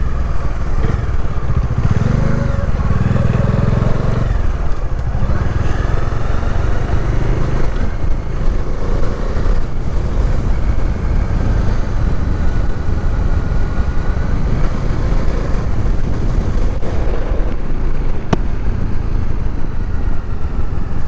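A Dominar 400 motorcycle rides steadily on a road in Kerala, its engine droning continuously up close with a constant, unbroken rumble and no talk over it.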